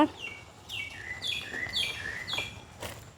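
A myna bird calls in a rural village yard, a series of bright, clear chirps and whistles repeating several times over a quiet outdoor background.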